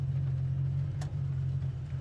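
A 1968 Ford Mustang California Special with its 289 V8 drones steadily while driving, a low, even engine hum inside the cabin, with a brief click partway through and no speech.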